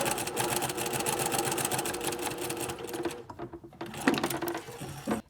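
A sewing machine runs steadily while stitching a gathered section of fabric, a dense, fast mechanical whir that stays close and even for a few seconds, then slows and stutters before stopping.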